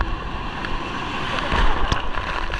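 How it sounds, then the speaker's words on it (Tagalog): Large ocean waves wash over a sandbar off a Palawan island, a continuous rushing roar of surf mixed with buffeting wind on the microphone. "Oh, malaki alon."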